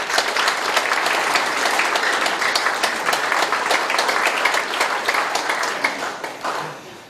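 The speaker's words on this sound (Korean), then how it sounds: "나오실 때 큰 박수로 맞이해 주십시오." A large audience at an inauguration ceremony for the chairman of a Korean police veterans' association gives loud, sustained applause as a lawmaker is welcomed to the stage. The clapping is thick and continuous and tapers off in the final second.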